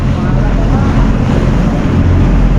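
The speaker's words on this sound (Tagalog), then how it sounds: "dinaanan namin oh matining ang alon" Strong waves slap against a boat at sea, a continuous loud wash of water and wind buffeting, heavy low rumble throughout with no voices.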